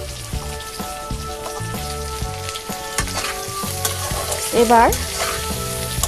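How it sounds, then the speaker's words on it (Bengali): Vegetables frying in a pan with salt and turmeric, giving a loud, continuous sizzle and stirring over background music, with one brief spoken word partway through. "সবজিটাকে একটু কষিয়ে নেব।"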